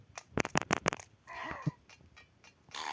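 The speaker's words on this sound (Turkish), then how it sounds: "bak bak gene bir pislik osurdu." A quick sputtering fart in the Roblox game Barry's Prison, made of rapid flapping pulses, followed by softer scattered rustles and squeaks.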